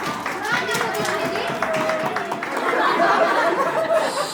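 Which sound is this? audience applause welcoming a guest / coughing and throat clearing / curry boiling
audience applause welcoming a guest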